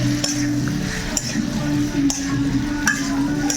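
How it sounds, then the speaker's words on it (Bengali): Prawn curry with salt being stirred in a pan, giving steady scraping and clinking of a utensil against the metal over a continuous low sizzle, close and moderately loud, with no talk. "দেখো এখন ঘেটে নেওয়া হচ্ছে"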